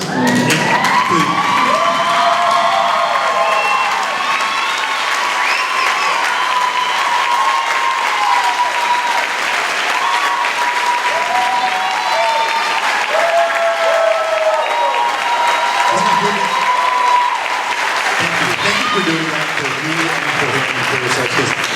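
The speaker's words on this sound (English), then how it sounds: "I want you to stand up and give Porfirio a roaring applause" A standing audience at a women's empowerment mastermind event gives a roaring applause, sustained loud clapping with cheers and whoops, and voices calling out over it throughout.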